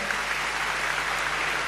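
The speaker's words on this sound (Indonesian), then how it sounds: "tepuk tangan untuk Bante dan Roy" Steady applause from an audience at a Buddhist Dhamma talk fills the whole moment, an even wash of many hands clapping with no voices over it.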